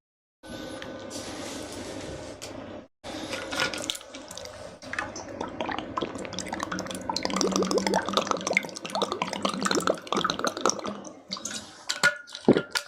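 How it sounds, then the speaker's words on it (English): A person drinks water close up, with splashy liquid sounds, clatter and gulping. The sounds come in an uneven run after a brief pause. "Sorry for the noise, I had to take some water."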